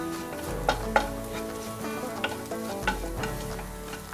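A spoon stirs dry-ground masala paste through hot oil in a pan for Maharashtrian katachi amti, a constant close frying hiss broken by several sharp scraping clinks against the metal, with no one talking.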